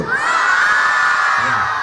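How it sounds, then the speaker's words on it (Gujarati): A large crowd at a school annual function cheers, shouts and applauds loudly in one sustained, high-pitched roar of voices lasting the whole moment. "ખૂબ ખૂબ તાળીઓ"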